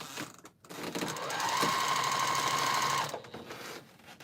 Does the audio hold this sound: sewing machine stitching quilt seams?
yes